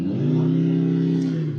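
A Mercedes-AMG C63 four-cylinder engine revving against its soft limiter, a sustained high-rpm buzzing tone held evenly for over a second before dropping off, loud and alone.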